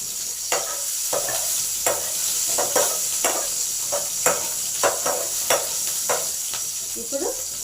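Cumin seeds and green chillies fry in hot oil in a pan, a steady sizzle broken by a dozen or so sharp stirring scrapes at a loose rhythm, close and moderately loud.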